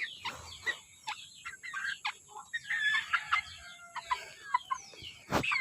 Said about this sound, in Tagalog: Galibot ang mga manok.